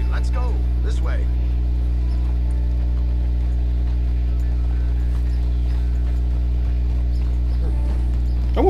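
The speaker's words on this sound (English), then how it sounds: "I wonder if they got a horse like this for real." Horse hooves clip-clop in Red Dead Redemption 2, steady and fairly close beneath a constant low engine-like drone, with a few faint voice fragments near the start and end.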